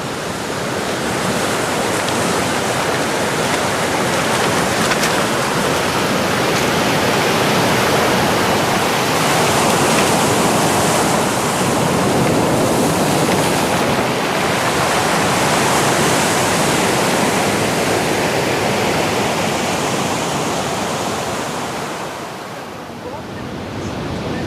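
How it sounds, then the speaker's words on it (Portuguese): Ocean surf breaking against a volcanic Canary Islands coast, a loud continuous roar of waves and spray with wind, sustained throughout before easing slightly near the end. "a costa cada vez mais vulcânica faz frente a um oceano que, em dias de ondulação forte, pode revelar-se terrível"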